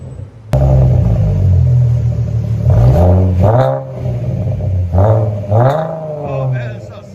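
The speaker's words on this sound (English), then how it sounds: "Oh man, that sounds so good. Ford Mustang V6." A 2014 Ford Mustang 3.7L V6 fitted with a Magnaflow Competition Series cat-back exhaust starts with a sudden roar into a deep idle, then takes several loud quick revs up and back down, close by, with voices heard briefly.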